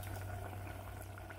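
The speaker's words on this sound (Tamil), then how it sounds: "இப்போ ஒரு மூடி வச்சு மூடி கொதிக்க விடலாம். இப்போ கொதி வந்துடுச்சு." A quiet, steady bubbling simmer with a low hum beneath it, continuous and close, of a plantain curry boiling under a lid.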